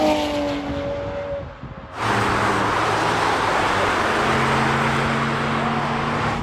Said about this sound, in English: try to explain what's happening to the GT3 as it warms up and we build up speed